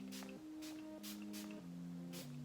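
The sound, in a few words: spraying Bold Hold lace tint from a bottle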